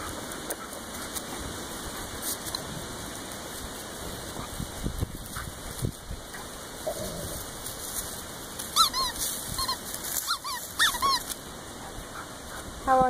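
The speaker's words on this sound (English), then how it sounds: "How long is the squeaker gonna last?" A dog plays with a new squeaky toy, giving bursts of sharp squeaks and soft whimpers close by, loudest near the end, with little else in the background.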